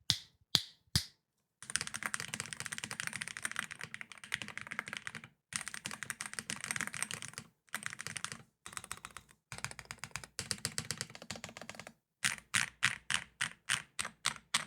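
Rapid typing in bursts on a Hall effect keyboard, with short pauses between runs of clacky keystrokes, close and clear, ending in a series of separate key presses.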